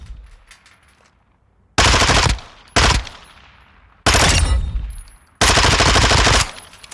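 A PP19 Vitesse submachine gun in Call of Duty Modern Warfare II fires four loud, close bursts of rapid automatic fire, each lasting about half a second to a second, separated by short pauses with fading echoes.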